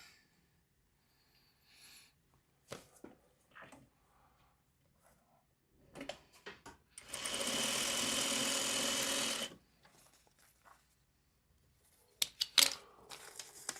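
A sewing machine stitches a fabric strip in one steady, loud burst of about two seconds. Scattered handling clicks and soft rustles come before and after it.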